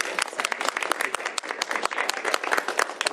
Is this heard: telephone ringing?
no